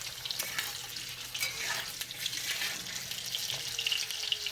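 Potatoes fry in a pan with a steady, close hiss and sizzle, joined by occasional scraping stirs and faint clinks, with no talking.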